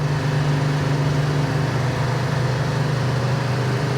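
A 1974 Plymouth 'Cuda engine holds about 3000 RPM while cruising on the road, a steady, unbroken low drone that fills the cabin with no speech.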